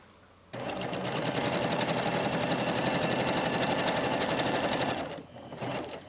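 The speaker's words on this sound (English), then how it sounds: "I'm going to turn this to the largest stitch. I'm going to take all 4 pieces and go from that mark to this one and ease it" A sewing machine runs at a steady fast clatter, set to its largest stitch while stitching jacket sleeve pieces, starting abruptly after a brief pause, running close and continuous for several seconds, then slowing and stopping.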